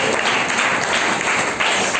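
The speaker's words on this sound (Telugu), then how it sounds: "చప్పట్లు దేవుడు" A church congregation claps together for God during a Telugu worship sermon, a dense, steady wash of applause filling the room at close range with no voices over it.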